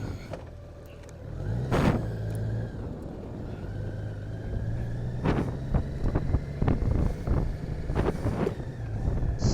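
A Honda Goldwing motorcycle riding on the road, a steady low engine drone under heavy wind buffeting, with sharp gusts and thumps rising and falling throughout.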